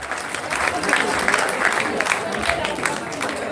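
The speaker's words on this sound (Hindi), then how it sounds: "जोरदार तालियां हो जाएंगे" An audience claps after a Meera dance-drama performance, a sustained crowd applause with a lively, slightly uneven texture and faint murmuring voices mixed in beneath it.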